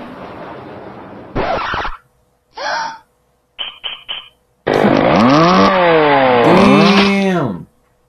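A chainsaw attack in the browser game Whack Your Ex: a loud, revving, whining buzz rising and falling for about three seconds, preceded by short sharp cartoonish effects and gasps.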